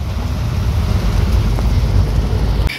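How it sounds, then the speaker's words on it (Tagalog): Heavy rain pours down in a steady, loud broadband roar with wind buffeting the microphone, continuous throughout with no voices. "Ang lakas mga kaibigan kasi maulan kasi ngayon."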